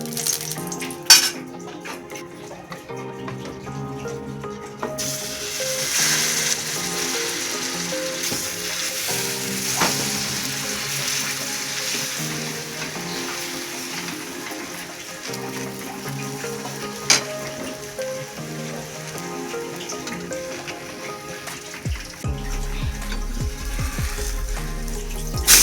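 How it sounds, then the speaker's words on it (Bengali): Batter frying in hot white oil on a tawa griddle, a steady close sizzle running throughout with occasional clinks of a utensil against the pan and brief scraping, no talking. "সাদা তেলটাকে ভালো করে গরম করে নেওয়া হবে। তারপরে যে ব্যাটারটা তৈরি করা হয়েছে সেটাকে দিয়ে দেওয়া হবে"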